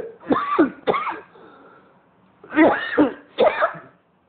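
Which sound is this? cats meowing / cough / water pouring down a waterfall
cough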